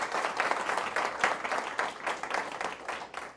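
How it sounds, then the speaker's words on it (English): A round of applause from an audience at a K-12 foreign language session, a fairly soft, steady patter of clapping hands that swells and dips slightly. "give her a nice round of applause"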